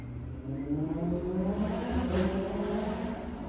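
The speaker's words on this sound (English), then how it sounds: "No, that sounds like a bike." A motorbike passes by at a distance, its engine note rising and then fading across a few seconds, moderately faint, with no talking.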